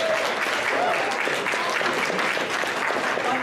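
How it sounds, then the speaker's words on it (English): Open mic comedy audience breaking into steady applause, a dense wash of clapping that holds at an even level throughout. "You get applause for that."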